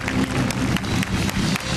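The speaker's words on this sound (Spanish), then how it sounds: "Así que un aplauso para ella." A studio audience at a television show applauds steadily and loudly, dense clapping filling the short stretch without pause.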